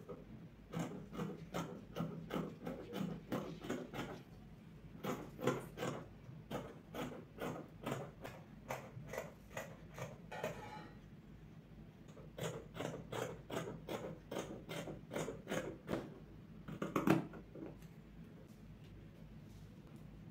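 Fabric is cut out to make a yoke pattern piece for a garment, heard as quiet, rapid runs of crisp snipping clicks separated by short pauses, close by and without any talking.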